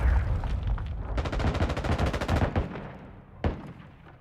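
Rapid automatic gunfire in the video game Call of Duty: Modern Warfare II, a long loud burst of evenly spaced shots followed by a single sharp report, no talk over it.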